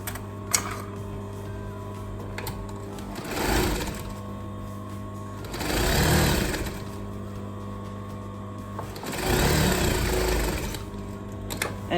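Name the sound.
sewing machine stitching a gathered skirt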